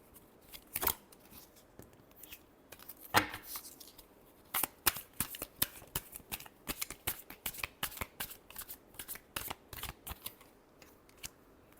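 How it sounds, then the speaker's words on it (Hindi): Tarot cards are shuffled by hand close up, producing a steady run of sharp riffling and slapping bursts at an irregular rhythm, with no voices. "Last shuffle."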